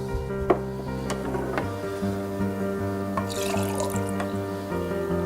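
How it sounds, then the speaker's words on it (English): Green juice made with sunflower and pea sprouts pours into a glass in a steady, close trickle with a few drips, under soft background music and no talking. "Pour it in our glass."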